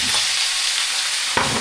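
Meat hits hot oil in a pan for a stir-fried rice noodle dish, a loud continuous sizzle with a brief clatter near the end and no talking.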